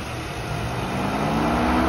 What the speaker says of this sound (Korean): 이제 공회전을 시작했는데 팬이 일단 돌고요